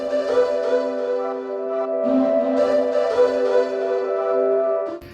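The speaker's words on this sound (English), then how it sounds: "So we start the song with this riff on synth that sounds like this." Main riff of a song played on a synthesizer, a sustained layered tone with steady repeating melodic movement, heard alone and fairly loud throughout.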